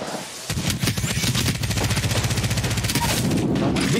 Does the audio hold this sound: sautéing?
no